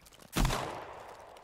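A single sharp video game gunshot cracks out and decays into a short echoing tail, loud and close against a quiet background.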